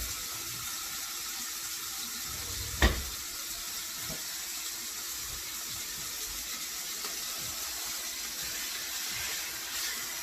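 Marinated steaks sizzle in a skillet, a constant close hiss with one brief louder knock near the start.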